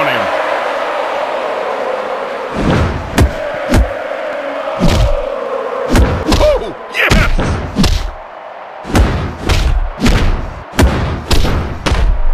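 Heavy body impacts from an enziguri kick in the WWE Mayhem mobile wrestling game, X-Pac versus Harper: a series of sharp, loud thuds and slams in irregular bursts over a steady crowd-like background.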